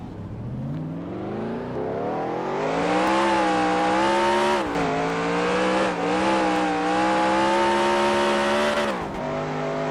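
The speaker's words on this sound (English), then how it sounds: "I'll let you guys listen to the engine sound here." A NASCAR race car engine in the video game NASCAR Racing 2003 Season roars loudly and steadily during a qualifying lap, its pitch climbing as it revs, dipping briefly at gear shifts, then rising again, with no voices.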